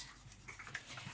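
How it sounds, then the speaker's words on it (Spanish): A utensil clinks and scrapes in a bowl as egg yolks are mixed into homemade blini batter, in quiet, light, irregular taps. "pero voy a terminar de mezclar las yemas"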